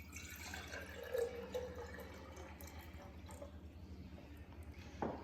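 Water is poured into a glass jar, a soft trickling and dripping pour that ends in a brief louder splash, close by with no talk.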